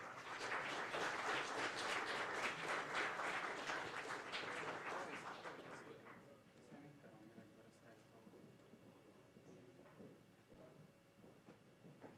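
An audience at a game jam presentation event claps for a team, a dense round of applause that fades out after about six seconds, leaving quieter room noise and faint voices.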